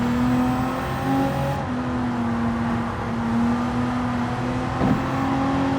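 Steady engine drone with turbo whine from a car accelerating in Gran Turismo 7, a continuous near tone holding and shifting pitch over several seconds without talk.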